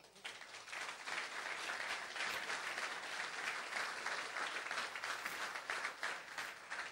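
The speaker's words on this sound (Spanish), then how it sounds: "Pido un aplauso, por favor," Audience applause at a national thought congress in honour of two singers, steady dense clapping from a crowd that fills the whole stretch at an even level, with no talk over it.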